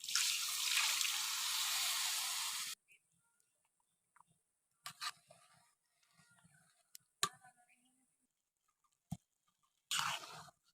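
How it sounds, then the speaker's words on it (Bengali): Water is poured from a mug into a pan of fried rice: a loud splashing pour for about three seconds, then scattered faint clinks and stirring sounds with quiet gaps, and a short final splash. "মগ মেপেই পানি দিতেছি।"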